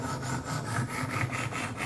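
Steady abrasive rubbing of a Kershaw Skyline knife blade drawn across Wicked Edge sharpener stones, a close, continuous scraping with a repeated back-and-forth stroke rhythm and no voices.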